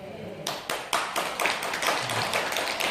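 An audience bursts into applause at a Buddhist monk's Sunday dharma talk. Quick, dense clapping rises after a brief quiet moment and carries on steadily, full and close.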